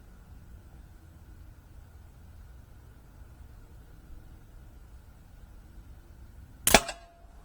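A single sharp crack from a Snowpeak P35X air gun firing H&N Match Heavy pellets, standing out near the end after a long stretch of quiet background hiss.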